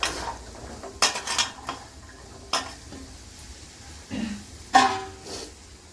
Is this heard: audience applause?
no